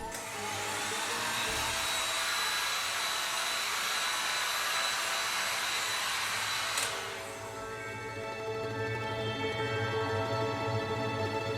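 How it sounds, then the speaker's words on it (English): A heat gun blows steadily over a carved foam tombstone, a loud continuous whooshing hum that shifts in tone partway through as the airflow changes, with no voices. "I wanted to make sure to keep the heat gun away from all of the letters that I carved out."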